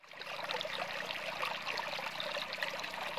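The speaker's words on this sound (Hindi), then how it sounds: "नीचे से पानी इस तरफ जा रहा है" Water flows in a small stream in Balochistan, a continuous bubbling trickle, close and moderately soft, with no voices.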